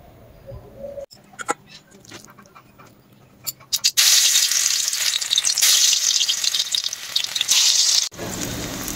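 Fritters (bora) made from gram flour, rice flour, salt and turmeric fry in oil with a loud, close sizzle that starts midway after some clatter and a soft voice, cuts out briefly, then resumes.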